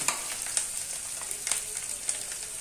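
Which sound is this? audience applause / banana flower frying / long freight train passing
banana flower frying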